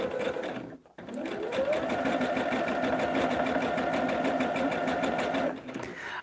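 A sewing machine stitches a quilt, running in a steady continuous whir with rapid needle pulses for several seconds after a brief pause, close and alone with no talking.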